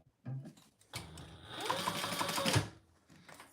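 A sewing machine stitches leather at a steady, fast mechanical whir, running continuously through the middle of the stretch at close range, with faint talk and handling noise at the edges.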